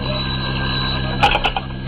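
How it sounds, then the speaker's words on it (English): In a 1951 radio drama, a telephone gives a brief electric bell ring, two quick trilling bursts heard over a steady humming background, with no one speaking. "the phone rang"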